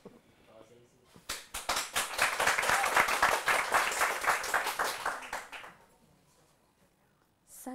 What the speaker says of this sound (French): On l'applaudit très fort pour l'encourager, s'il vous plaît.